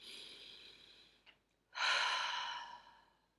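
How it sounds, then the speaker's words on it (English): A single person takes a slow, audible breath in close to the microphone, then a short pause, then a longer, louder breath that swells and fades away gradually. "Another deep breath in."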